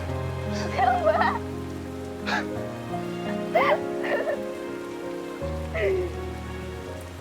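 Heavy rain pours down in a steady wash beneath sustained music, while voices speak in short bursts over the downpour.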